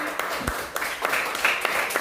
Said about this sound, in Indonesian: tepuk tangan buat Dewi.